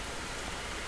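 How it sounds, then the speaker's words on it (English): Heavy rain pours down in the game DayZ, a dense, steady hiss that fills the whole moment without any break or voice. "Holy fucking rain."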